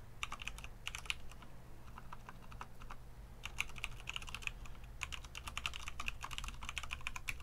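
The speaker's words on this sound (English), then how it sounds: "You can see how bad my typing skills are." Rapid, uneven keystrokes clatter on an Obins Anne Pro 2 Bluetooth 60% RGB keyboard in clusters with short pauses, close up over a low background hum.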